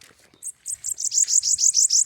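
A pet songbird chirps outdoors in a rapid run of bright, high chirps. It starts sparse and builds into a quick, loud, close series over a quiet background.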